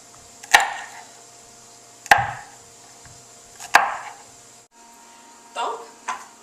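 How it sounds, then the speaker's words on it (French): A knife chops garlic into tiny pieces for ratatouille, making a few crisp strikes on a cutting board about a second and a half apart, followed by softer cuts. A voice talks in the background. "il faut découper l'ail dans des très petits morceaux"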